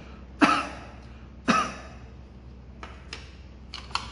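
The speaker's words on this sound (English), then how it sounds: "so I'll just cough" Two short, close coughs are heard about a second apart in a quiet room, followed by a few faint clicks and taps.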